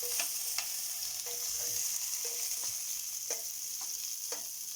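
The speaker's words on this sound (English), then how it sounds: "Instead of adding the garlic first, I just dump in both the garlic and the onion." Garlic and onion sautéing together in a hot pan: an even, steady sizzle with light repeated clinks and scrapes of a utensil stirring, no voices.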